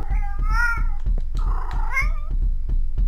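A cat's meow from a video game cries out twice in a row. The calls are loud, rising and falling, and sit over constant game noise and low thumps.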